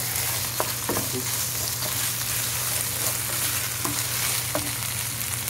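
Meat frying in a pan over high heat, a constant close sizzle over a low hum, broken by light scraping stirs and taps of a utensil.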